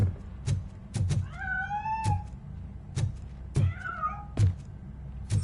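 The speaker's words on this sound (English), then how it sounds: "That cat must be hiding inside." A cat in the video game Robocop: Rogue City meows twice in drawn-out, rising and falling calls, set among several sharp thunks and knocks.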